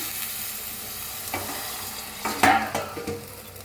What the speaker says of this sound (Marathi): मिक्स करून घेऊया चिकनला